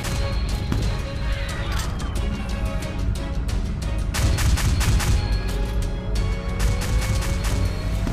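Rapid, repeated heavy blasts of video game cannon fire boom one after another throughout, loud and close, over a constant rumbling battle din.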